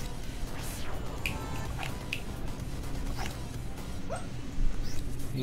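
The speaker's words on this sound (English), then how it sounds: "Whose dog is that?" Dog in the co-op video game Big & Tiny, repeated faint yips and whimpering barks scattered over a steady noisy background.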